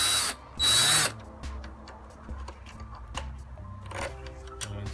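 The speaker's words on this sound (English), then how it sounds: "So just using a drill to speed it up." Cordless power drill spinning out loosened headlight bolts on a Kawasaki Z900 motorcycle, two close, loud whirring bursts at the start followed by quieter ticking and clicks of the bolt and tool.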